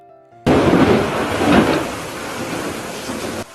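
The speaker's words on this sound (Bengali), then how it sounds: "চারিদিকে শুরু হয় প্রচণ্ড ঝড় বৃষ্টি" A heavy thunderstorm sound effect bursts in suddenly: a dense roar of pouring rain with a rumbling thunder swell near the start, staying loud and steady before cutting off abruptly.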